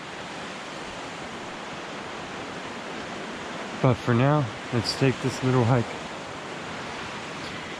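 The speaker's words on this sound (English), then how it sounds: "This is a waterfall" Steady broadband rush of a waterfall in a mossy forest past May Springs near Mount Shasta, loud and continuous throughout, with someone briefly talking over it midway.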